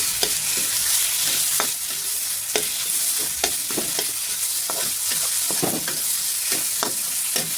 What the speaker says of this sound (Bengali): আলুটা দিয়ে নিয়েছি, এবার আমি ভেজে নেবো আলুটা